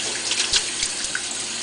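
A tap running lukewarm water for washing, a steady close hiss of flowing water with small splashes, no talking.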